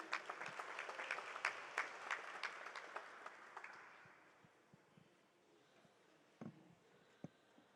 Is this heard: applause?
yes